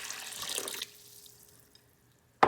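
Warm water pours into a bowl holding sugar and yeast for homemade bread, a steady splashing stream that fades over about a second and a half before a brief clatter at the end.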